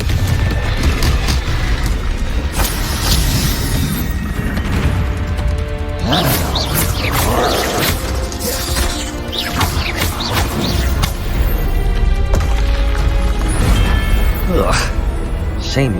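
Confringo fire spell explosions in the video game Hogwarts Legacy: loud, repeated booms and crashes over a dense, continuous bed of combat effects and music, with voices at times.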